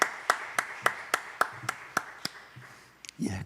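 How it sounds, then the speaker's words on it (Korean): Sparse claps ring out from a church congregation during a Sunday morning service, about ten sharp evenly spaced strikes, fairly close, ending in a brief muffled rustle. "영광의 박수 올려드립니다"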